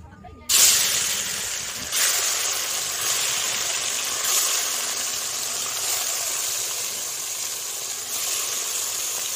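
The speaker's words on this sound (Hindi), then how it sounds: "अब इसको तलना है, तलने के लिए रेडी हो चुका है, तो अब इसे तलती हूँ।" Mustard-spiced katla fish pieces drop into hot oil and set off a loud, steady frying hiss that starts abruptly and keeps going without a break.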